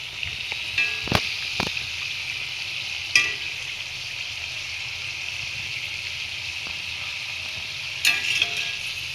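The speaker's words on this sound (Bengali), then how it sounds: "এই যে দেখো এগুলো ভাজছি এখন, আস্তে আস্তে ভাজা হচ্ছে।" Food frying in oil in a wok with a continuous bright sizzle, close and moderately loud, broken by a few sharp clinks and scrapes of a utensil stirring and turning the pieces.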